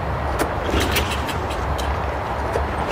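A Toro Recycler 22-inch lawn mower engine fires on carb cleaner, giving a rough, uneven close-up rumble with a few sharp pops and knocks over about three seconds.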